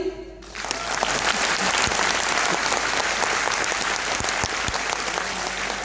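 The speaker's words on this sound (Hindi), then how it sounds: "इतनी ताली?" After a brief quiet moment, loud sustained applause from a big audience in a railway auditorium breaks out and continues steadily to the end.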